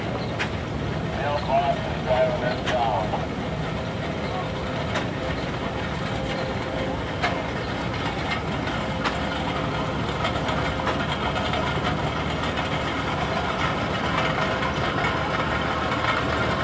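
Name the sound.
1938 Farmall F-14 tractor engine running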